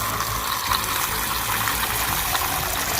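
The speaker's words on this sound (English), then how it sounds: "fill it up with water." Tap water pours steadily into a tarantula's water dish during an Aphonopelma hentzi rehousing, a continuous close gushing fill with no talking.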